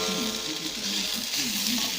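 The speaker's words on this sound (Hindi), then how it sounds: "2 मिनट के बाद हमने इसमें चम्मच हिलाया है" Okra frying in a spoonful of ghee gives off a steady close sizzle for the whole stretch, with faint low clinks and scrapes from a spoon stirring the pan.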